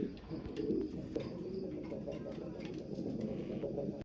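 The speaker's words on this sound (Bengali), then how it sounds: "একদম হাই কোয়ালিটির একটা কবুতর" High-quality pigeons at a farm giving faint, low, continuous cooing, a murmuring stream of throaty calls heard at a distance with muffled voices in the background.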